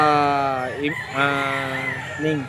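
Chickens at a Grotto pet market cluck and crow repeatedly in close, loud bursts, with Cuban hennie fowl among the birds on sale.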